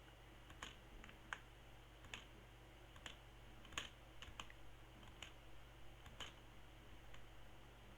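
Computer keyboard keys click in scattered, irregular taps at close range. A low, steady hum from the computer runs beneath them, and no one speaks.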